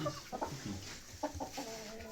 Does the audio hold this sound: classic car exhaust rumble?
no